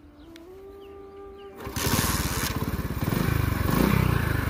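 A motorcycle engine in a village restarts after about a second and a half of quieter sound, then runs with a loud, steady, rapid putter that swells slightly toward the end.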